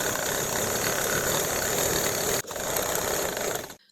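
A sewing machine stitches channels for an elastic waistband, running as a steady close mechanical whir with a brief stop partway through before it resumes and then cuts off.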